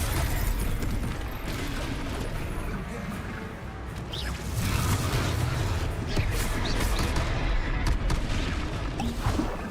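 Dense game-combat din from Hogwarts Legacy: a Confringo blasting spell fired in battle, with booming, crashing explosion energy over a thick, continuous rumble that surges louder midway, effects layered densely with no clear pauses.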